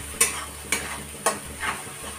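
A spice paste fries in oil with cumin as a mushroom curry is stirred, sizzling under repeated scraping strokes of a spoon, about four in quick succession, close and without speech.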